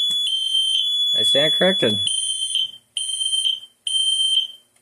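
A Notifier smoke detector goes off after a smoke test, sounding a piercing, high electronic tone in long repeated pulses close by. A voice speaks briefly over the alarm.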